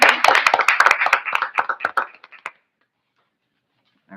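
Applause from a school board meeting audience, dense clapping for about two and a half seconds that thins to scattered claps and stops, followed by near silence.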